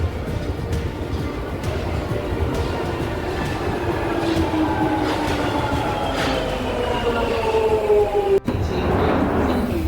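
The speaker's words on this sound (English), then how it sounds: "I think I can hear a train." A Jubilee line London Underground train runs at Baker Street station, a loud, steady rumble with rising wheel squeal and rail clatter that continues throughout and ends in a brief harsh burst.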